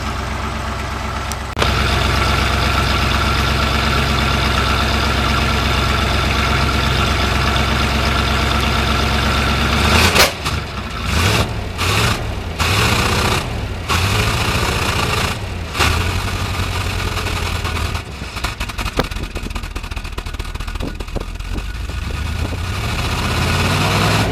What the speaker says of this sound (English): Sounds like I'm gonna rev it up a couple times.